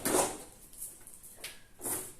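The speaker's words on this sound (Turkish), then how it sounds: "Şöyle çekmeceme koyayım." A drawer slides open and shut in a dormitory room, giving a few short scraping bursts, one near the start, one mid-way and another at the end, fairly close and moderately loud with no talking.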